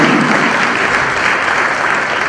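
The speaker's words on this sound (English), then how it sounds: "Please, another round of applause for our Honorable Commissioner." Steady, dense applause from a crowd at an education policy launch in Edo State, loud and continuous throughout with no pauses.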